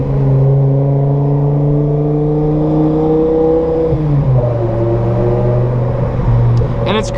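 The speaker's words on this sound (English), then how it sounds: "M6 with the S85 V10. This one has a straight pipe, no cats." A straight-piped BMW M6 with the S85 V10, no catalytic converters and no mufflers, drones loudly and steadily from inside the car, then its pitch drops as the revs fall mid-drive.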